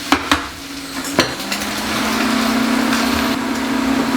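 A leftover-brisket omelette cooking in a pan: a few quick utensil clicks and taps come first, then a steady, moderately loud frying sizzle with a low hum underneath.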